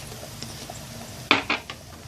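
Black cabbage being sautéed with tomato paste, black pepper and chili flakes in a pot for cabbage soup, a soft sizzle under a couple of sharp utensil clanks and scrapes against the pot.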